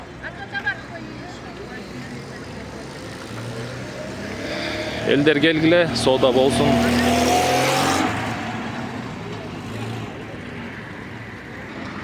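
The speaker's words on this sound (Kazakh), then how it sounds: "Бул жерден машина өтөт." A car drives slowly through a crowded open-air flea market in Osh; its engine swells loud for a few seconds and then fades, while people talk and a vendor calls out nearby.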